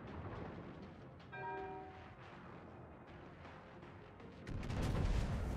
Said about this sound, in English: wow, a Takao broadside.